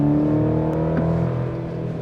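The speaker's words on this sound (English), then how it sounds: "you get a little bit more induction noise in Baja mode" Induction and engine noise from a 2024 Chevy Colorado ZR2 pickup in Baja mode, a steady close drone with tonal harmonics that eases slightly over two seconds, with no talk.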